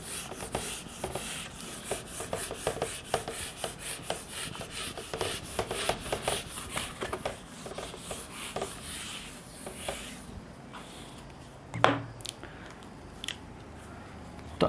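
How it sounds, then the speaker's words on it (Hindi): Steady back-and-forth rubbing as a teacher erases writing from a board in a classroom, dense scraping strokes for about ten seconds, then quieter with a few brief knocks and handling sounds. "तो इसको रब कर देता हूं मैं।"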